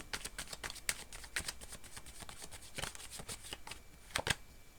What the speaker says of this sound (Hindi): एक और कार्ड ले लेते हैं गाइस।